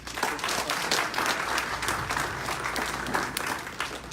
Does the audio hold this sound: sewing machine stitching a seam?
no